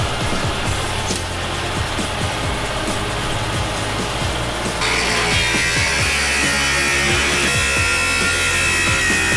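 Power tool cutting or scoring through sheet metal car quarter panels in a workshop, a loud continuous harsh grinding that grows brighter and more intense partway through, steady throughout with no talking.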